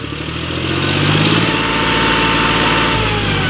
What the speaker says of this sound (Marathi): दोन्ही ट्रॅक्टरचा फुल जोर लावलेला आहे परंतु ट्रॅक्टर काय निघण्यास तयार नाही